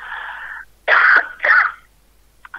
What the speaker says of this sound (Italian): sai perché sto tossendo?